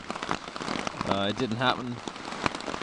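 Steady rain in the Peruvian Amazon jungle patters on a surface throughout, with a person speaking briefly over it midway.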